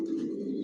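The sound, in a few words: pigeons cooing, racing pigeons in a loft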